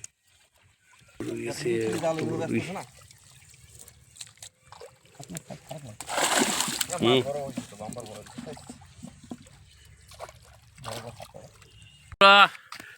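A boal catfish caught in a farmed pond thrashes and splashes in the water, with a few short bursts of splashing among people talking nearby.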